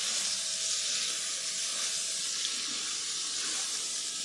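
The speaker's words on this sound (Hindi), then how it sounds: "चिकन के साथ इसको आपने 1-2 मिनट भूनना है और ये आपने मीडियम फ्लेम पे करना है सब।" Chicken frying with ginger garlic paste in a white karahi over a medium flame gives off a steady, loud hiss of steam and sizzle that never lets up, with no talking.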